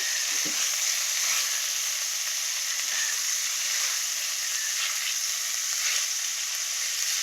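Bitter gourd (uchhe) fries in a pan with a continuous, even sizzling hiss that stays loud and close for the whole stretch, with no voices over it.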